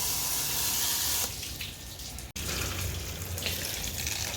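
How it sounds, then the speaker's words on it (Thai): Water from a garden hose flows steadily over an air conditioner's condenser coil during cleaning, a continuous close rushing splash with a brief break midway. "ล้างแบบน้ำไหลอย่างเงี้ย"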